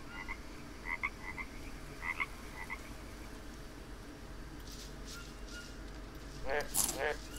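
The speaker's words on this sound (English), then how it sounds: "Oh, poison frog." Poison frog in the jungle survival game Green Hell croaks in short repeated bursts, several rapid pulses early on and a louder cluster near the end, over soft rainforest ambience with a voice present.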